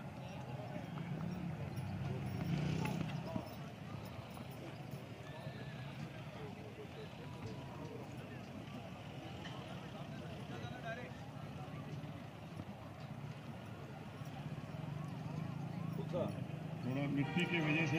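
Horse cantering on soft soil in a riding arena, with a steady muffled hoofbeat rhythm, a whinny and ongoing crowd noise.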